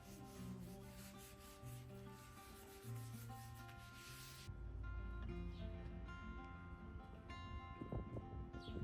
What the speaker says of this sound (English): At this point, I could use a 150 grit, but I don't have it, so I'm using the 120. And I sand the entire table, even the legs.